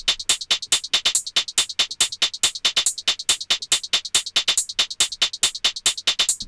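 Two UK garage hi-hat loops layered together at 140 BPM, forming a dense, fast stream of sharp, bright ticks that repeat evenly and loudly with no other instruments or voices.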